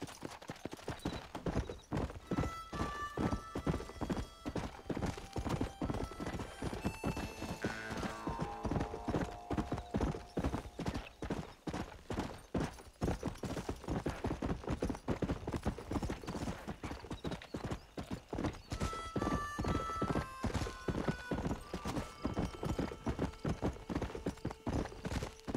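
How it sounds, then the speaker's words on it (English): Steady, rhythmic horse hoofbeats clip-clop continuously at a trotting pace in the video game Red Dead Redemption, close and loud, with occasional tonal music-like notes layered over them. "It's my horse Klepto. We call him Zeke for short."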